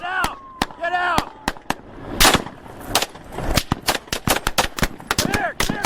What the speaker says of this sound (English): because of the barrage of gunfire from these cops and the cops probably on a hill